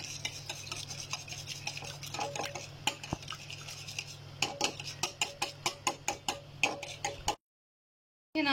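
Eggs being mixed with red chili in a bowl, a utensil rubbing and tapping against the sides in a quickening rhythmic series of clicks and scrapes, close and alone over a low hum, ending abruptly.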